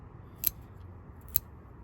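Two crisp snips of scissors cutting stonecrop plants near the soil, about a second apart, close by over a quiet background rumble.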